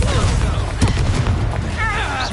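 A Confringo fire spell blast bursts in Hogwarts Legacy, a sharp fiery boom amid combat noise with a character's shout nearby.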